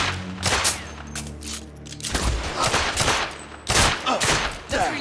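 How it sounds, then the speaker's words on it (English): Loud pistol shots in The Order: 1886, fired singly and in short clusters of sharp reports spaced a second or so apart, each followed by a brief echoing tail. "Why do I gotta use my pistol?"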